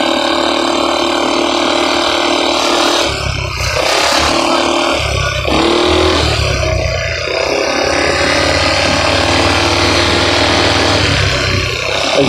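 Small GY6 moped scooter engines, 50cc and 150cc, droning steadily and loudly throughout a group ride, with the throttle held around a quarter and the engine note swelling and falling slightly over the road noise.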